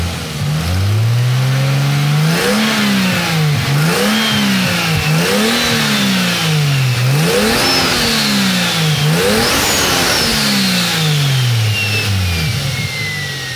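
Toyota 2JZ-GTE VVT-i engine running close and loud, idling then revved repeatedly in rising and falling swells, with turbo whine climbing during the later revs.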